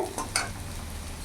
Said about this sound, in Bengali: পেঁয়াজটাও ভাজা ভাজা হয়ে গেছে